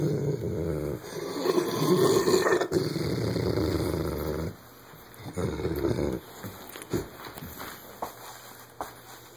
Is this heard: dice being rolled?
no